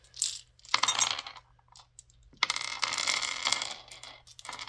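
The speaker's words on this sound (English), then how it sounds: "I'm going to roll my big dice since I finally have a dice tower that it can fit in." Big dice tumbling down through a dice tower, heard as two bursts of clattering rattles, a short one and then a longer tumbling run, close by with no talking.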